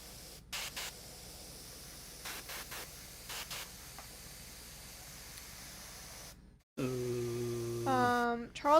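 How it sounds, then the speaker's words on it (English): Aerosol spray can applying a drab brown base coat to a tabletop miniature, heard as steady hissing bursts under background chatter, followed by a louder tonal voice near the end. "Charles asked what base color you're spraying on, Jordan."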